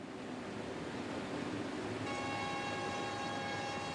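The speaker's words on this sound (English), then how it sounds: "Qinghai Tibet Railroad is running a test rail car." Steady rumbling rail noise of a test rail car rolling along the Qinghai-Tibet Railway, with a sustained tonal whine entering midway and holding to the end.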